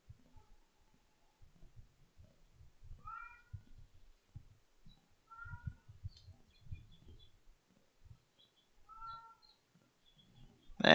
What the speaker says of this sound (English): And he's going back to the meowing.